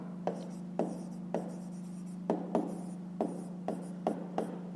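A pen writes out a fifth-grade math exercise by hand, giving a series of short scratchy strokes in an uneven rhythm over a low steady hum, close and fairly quiet.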